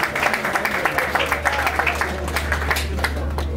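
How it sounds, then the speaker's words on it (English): Crowd applause for Ian Duncan at a motorsport time attack finals at a circuit, a dense spread of clapping hands with scattered sharper claps over a steady low rumble, sustained and moderately loud throughout. "A round of applause for Ian Duncan"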